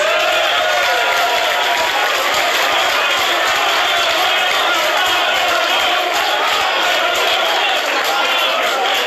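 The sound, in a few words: crowd cheering at a campaign speech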